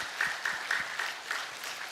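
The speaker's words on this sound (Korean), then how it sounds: "우리 하나님께 영광의 박수 올리겠습니다" Short burst of congregational clapping during a Korean Methodist church Sunday worship service, a few distinct claps standing out against a soft room background, moderately quiet.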